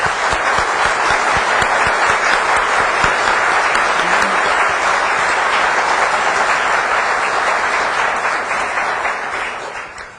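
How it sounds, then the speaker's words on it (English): A large audience claps steadily at a talk about Babbage's Difference Engine, a dense, loud wash of hands that holds for about nine seconds before thinning slightly at the end. "Please let's give them a round of applause."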